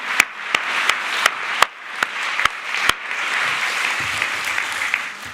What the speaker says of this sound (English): let's also give them a round of applause, please.